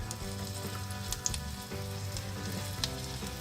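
Green peppers and pizza toppings sizzle steadily in a tiny pan on a vintage toy kitchen, a close, continuous frying hiss with a few small pops and no talking.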